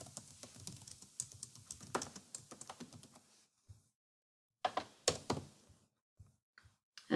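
Fingers typing a title on a computer keyboard, a quick run of close clicky keystrokes for about three seconds, then a pause and a few scattered taps, no talking.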